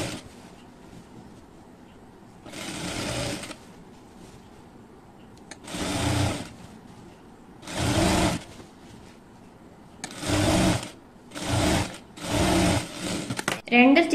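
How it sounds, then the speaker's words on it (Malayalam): A sewing machine stitching the side seam of a nightie buzzes in six short, loud bursts of rapid needle motor whirr, close up, with quiet gaps between them and someone speaking in the pauses. "ഒരു 1 ഇഞ്ച് വിട്ടിട്ടാണ് ഞാനിപ്പോ സൈഡ് ജോയിൻ ചെയ്യുന്നത്."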